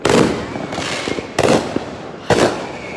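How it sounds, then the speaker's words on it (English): Independence Day fireworks bursting outdoors, three loud booming explosions about a second apart, each trailing into crackling decay, with people talking in the background. "There goes the fireworks."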